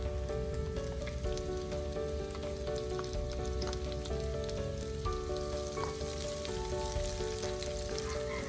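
Garlic sautéing in a hot pan for egg adobo, a steady low sizzle running throughout beneath louder tonal background music, with no talk.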